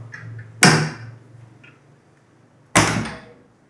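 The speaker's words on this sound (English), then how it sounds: "Close the door." An old house's entrance door in Penang, Malaysia, shut with two sharp, loud thuds a couple of seconds apart over a quiet room hum, with no talking.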